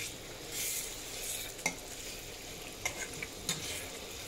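Roast simmering in plenty of oil, giving a steady soft sizzle and frying hiss with a few sharp clinks of a spoon stirring against the pot, alone without talk.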